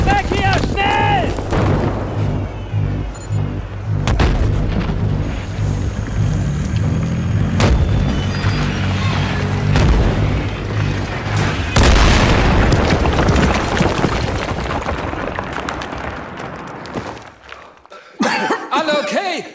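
A T-90 tank shot explodes nearby in the Battlefield 3 video game, a heavy boom followed by rumbling debris and scattered gunfire. Voices talk and cough over the din before it quiets.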